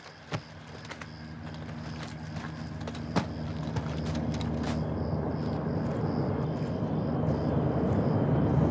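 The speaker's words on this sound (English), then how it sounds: "Got a heli incoming." A helicopter draws near in Call of Duty Modern Warfare II, its low engine rumble and rotor noise building steadily louder over several seconds, with occasional sharp clicks and knocks.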